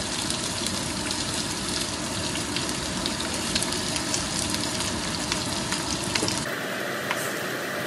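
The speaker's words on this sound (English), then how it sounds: "We're gonna fry for a bit." Onions and chili frying in a pan for biriyani, a dense, even hiss and crackle that continues steadily without pauses, fairly close and moderately loud, with no talking.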